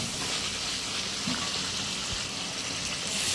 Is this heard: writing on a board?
no